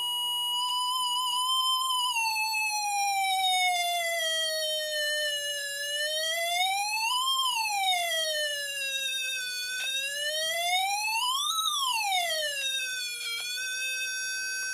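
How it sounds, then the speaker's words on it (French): A homemade siren built around a 74LS161 4-bit binary counter chip emits a bright electronic tone rich in harmonics, gliding slowly down and then swooping up and back in two repeated wails, steady and loud with no talking. "je me suis fait une petite sirène"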